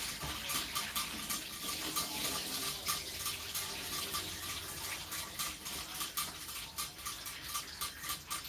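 Cloudy rice-rinsing water pours out of a bowl, a steady close splashing stream with small clicks and knocks throughout, no talking.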